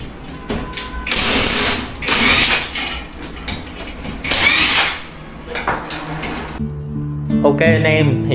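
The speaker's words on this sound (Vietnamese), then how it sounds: "hiện tại thì đang test cái máy lạnh" A rented apartment's air conditioner runs under test, giving a steady mechanical whir with repeated bursts of hissing airflow and clicks, followed by a few electronic beeps near the end.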